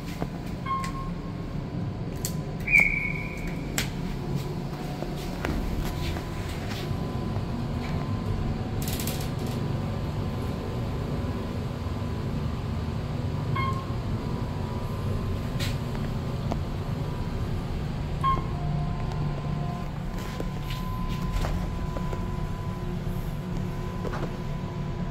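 A basic Series 1 hydraulic lift with a traction-style panel runs with a steady low mechanical hum, sprinkled with faint clicks, ticks and a couple of brief high tones.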